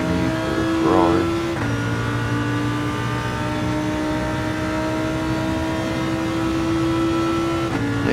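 A Ferrari Group 3 race car engine in Gran Turismo at Monza drones steadily at high revs, with a brief rev change near the start, while a person talks over it.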